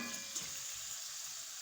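Chicken frying in a pan during cooking of Singaporean rice, a soft steady sizzle with faint crackles, quiet and close, with no voices.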